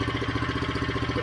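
A Powercar Thunderbird Jr small engine idles steadily up close, loud and even with a rapid regular thumping pulse and no voices.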